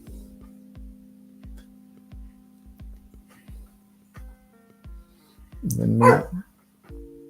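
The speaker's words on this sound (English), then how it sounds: "You hear my dog in the background? He's acting up." Soft rhythmic thumps tick along under a low hum, then a single sharp dog bark rings out near the end.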